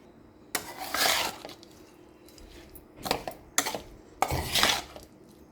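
Soaked flattened rice (poha) with lemon juice being stirred in a pan, giving a few bursts of metal spoon scraping and clinking against the pan, close and fairly loud with quiet gaps between.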